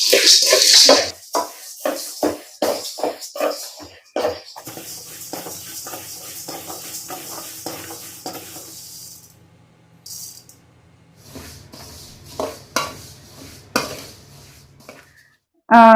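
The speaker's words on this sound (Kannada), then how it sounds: "ಎಲ್ಲ ಒಂದು ಪಾತ್ರೆಗೆ ಹಾಕೊಂತ ಇದೀನಿ" Roasted sambar powder ingredients are tipped into one large metal vessel with a run of close, sharp clinks, rattles and scrapes that come in quick bursts at first, then grow sparser and quieter.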